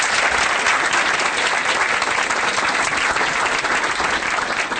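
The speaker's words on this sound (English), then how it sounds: "Give her a big round of applause." A live audience claps steadily and loudly throughout, a dense, sustained round of applause from a crowd welcoming a speaker at a Year Up event.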